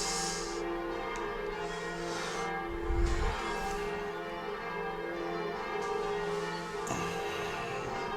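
Church bells ring from a church next door to a home, their steady overlapping tones sustained and fairly faint throughout, with a brief low thump partway through and no talking.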